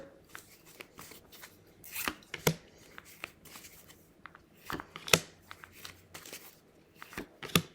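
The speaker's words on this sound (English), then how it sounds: "let's pull our cards and we'll look and see what they have to say" Tarot cards are shuffled and drawn by hand, giving bursts of crisp riffling and sharp snaps spaced irregularly across the clip, close and fairly quiet with no talk.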